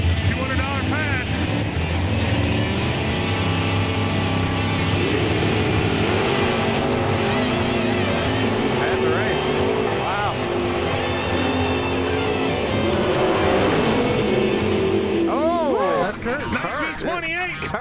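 A stock car makes a drag racing pass, its engine roaring loud and continuous with rising and falling revs throughout as commentators talk over it.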